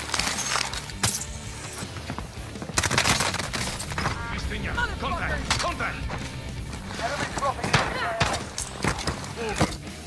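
Dense bursts of gunfire from the Call of Duty Warzone video game crack and rattle nonstop through the clip. Automatic fire and sharp single shots overlap, with occasional crashes, and voices call out over the battle.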